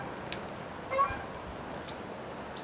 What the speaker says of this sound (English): here comes some geese, Canadian geese